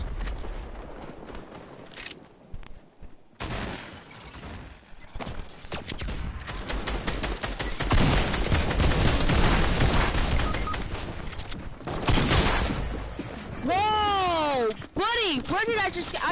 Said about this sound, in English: I just got shotgunned?